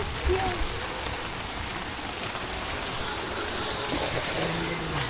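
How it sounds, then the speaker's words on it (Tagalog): Steady drizzling rain falls outdoors with a soft, even patter and hiss throughout, faint and continuous, with a few brief background sounds but no talking. "Kasi ito yung ulan na parang walang tila"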